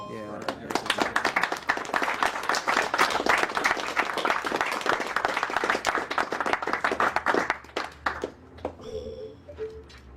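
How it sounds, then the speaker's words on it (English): A round of clapping from several hands, dense and lively for most of the stretch, thinning out toward the end as a voice comes in. "I believe your knitting deserves a great round of applause."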